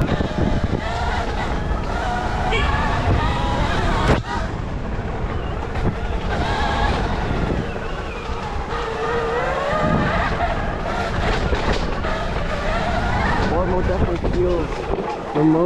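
Sur-Ron Storm Bee R electric dirt bike ridden in sport mode, heard as a continuous rushing roar of wind and motion with rising and falling whine, with talk over it.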